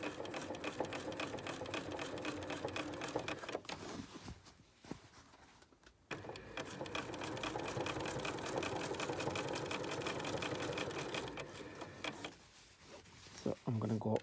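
A sewing machine stitches a bustier bra cup under the presser foot, running in long steady bursts with a couple of short pauses, loud and close, with a voice talking over parts of it.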